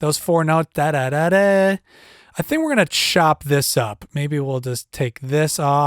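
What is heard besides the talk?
No everyday noise stands out behind the speech.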